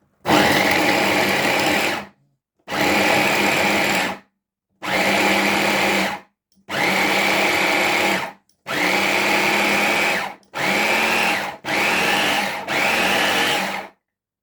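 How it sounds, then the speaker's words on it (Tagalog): Kitchen blender pulsing onion, garlic and ginger into a paste for Korean kimchi, seven loud motor bursts of one to two seconds each, separated by brief silences, with no one talking. "i-blend na natin guys yung sibuyas, bawang at luyas"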